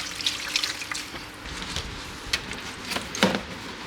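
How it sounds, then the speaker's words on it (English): Gentle liquid soap is stirred lightly into warm water in a sink, giving soft close-up sloshing and trickling with scattered drips and small splashes. "I mix it very lightly just in some warm water"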